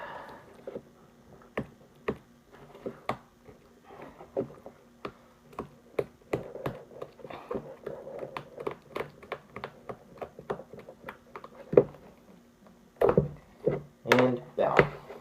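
A blade cuts through the stitches holding a shoe's sole to its upper, making a long run of small, crisp snips and ticks at an uneven pace, closer together and louder toward the end.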